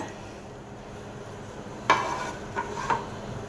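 Spinach, paneer, green chilli and onion get stirred in a pan, a soft low background broken by a few short scraping knocks of the spoon against the pan, close and quiet.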